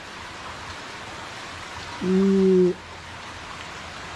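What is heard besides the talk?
torrential rain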